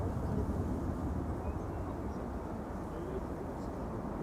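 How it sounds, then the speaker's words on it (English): Delta Airlines Airbus A330-300 jet departing Amsterdam Schiphol, a steady broadband engine roar that stays level and fairly distant throughout, with no voices over it. "Delta Airlines Flight 74 to Atlanta, Georgia, A330-300"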